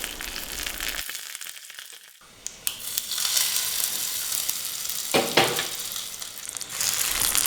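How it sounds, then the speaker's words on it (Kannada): Hot oil sizzles and crackles steadily with spitting pops as mustard seeds, chana dal, dried red chillies and curry leaves are tempered, interrupted by a brief quiet gap and occasional clanks of a pan. "ಒಗ್ಗರಣೆಗೆ ಸ್ವಲ್ಪ ಎಣ್ಣೆ ಹಾಕಿಬಿಟ್ಟು ಸಾಸಿವೆ, ಕಡಲೆಬೇಳೆ, ಒಣಗಿದ ಮೆಣಸಿನ್ಕಾಯಿ, ಸ್ವಲ್ಪ ಕರಿಬೇವಿನ ಸೊಪ್ಪನ್ನು ಹಾಕಿ ಚಿಟಪಟ ಅಂದಮೇಲೆ"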